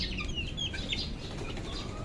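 Chickens cluck and fuss in an open-air backyard pen, a steady busy chorus of hens and young roosters with scattered higher calls over constant farmyard noise, close and continuous throughout.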